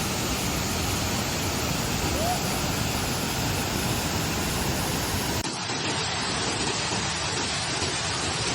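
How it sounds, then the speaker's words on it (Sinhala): Steady, dense roar of rushing water from a 25-metre waterfall near Ljubuški, Bosnia, continuous and fairly close, with no talk over it. "මීටර් 25ක් උස මේ ඇල්ල පුදුම තරම් ලස්සනයි."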